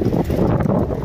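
Wind rushes steadily as rain arrives, a dense, continuous roar buffeting close to the microphone with no pauses.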